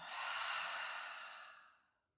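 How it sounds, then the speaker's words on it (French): One long, deep breath out through the mouth during a guided relaxation breathing exercise, a soft breathy rush that swells, holds, and gradually trails off into silence; close and quiet. "Expirez complètement."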